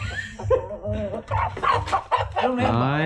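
Two fighting cocks clucking and squawking up close in a steady run of short, harsh calls, with some voices talking faintly in the background.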